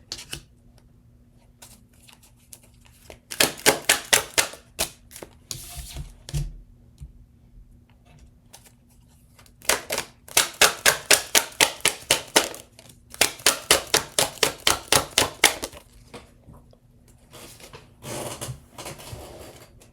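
Tarot cards being shuffled by hand, with several bursts of rapid, crisp riffling flutters separated by pauses, close and fairly loud with no talking.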